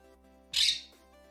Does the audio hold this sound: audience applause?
no